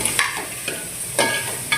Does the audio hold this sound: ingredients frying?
yes